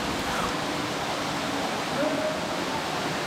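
Largy Waterfall on the Antrim coast, fed by water from nearby farmland: a steady, dense roar of falling water, loud and continuous throughout with no pauses.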